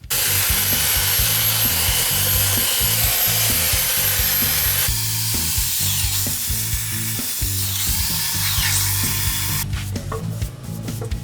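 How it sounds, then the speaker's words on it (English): Coarse sandpaper works over recycled timber in a loud, continuous rhythmic scrubbing, with back-and-forth strokes rasping close up and a brief change in tone near the end. "I'm going to use a coarse grade sandpaper just to take all the dirt and grime off."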